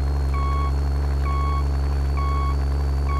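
Truck reversing alarm in Euro Truck Simulator: evenly spaced electronic beeps, about one every second, ringing clearly over a loud steady low engine idle.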